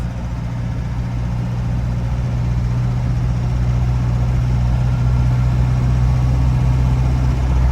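A 1996 Land Rover Defender 90 turbo diesel runs steadily and loudly throughout, a dense, constant low engine drone and hum with no talk over it.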